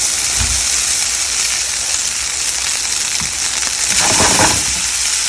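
Rice fries in oil with onions in a pan over high heat, giving a loud, steady sizzle and hiss close up, with a few brief clatters as it settles.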